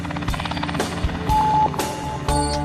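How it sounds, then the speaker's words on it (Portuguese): A helicopter serving an offshore oil production platform in the pre-salt field, its rotor and engine droning steadily over layered mechanical tones and occasional bursts, with no talk. "Para chegar e sair daqui, só de helicóptero."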